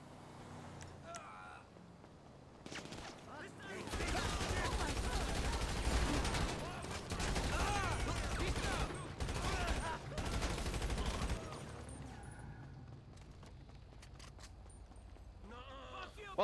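Gunfire in GTA Online's Cayo Perico heist: a dense stretch of rapid shots and bursts lasting several seconds, loud and continuous, with quieter game sounds before and after.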